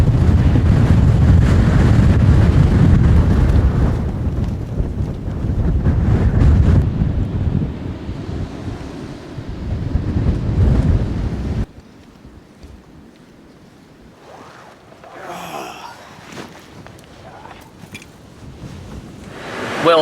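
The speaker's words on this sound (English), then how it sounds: "I need to get out of this wind" Strong nor'easter wind on a 6,000-foot mountain roars in heavy buffeting gusts against the microphone, then drops off sharply to a quieter, gusty background.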